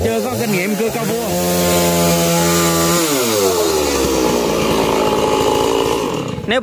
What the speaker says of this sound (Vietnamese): Nếu mà cầm cái máy cứ đè xuống hoài thì nó rất là khó cưa, nó bị dính cái lam lại.